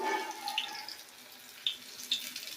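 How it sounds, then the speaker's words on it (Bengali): Batter-coated onion rings fry in oil with a soft, continuous sizzle, broken by a few sharp isolated crackles and pops. "এইভাবে প্রত্যেকটা জিনিস এরকম করে দিয়ে ভেজে নেব"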